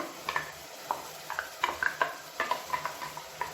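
A spoon scrapes and stirs ground masala paste into softened onions in a pan, making intermittent clinks against metal and a faint sizzle underneath, with no voices.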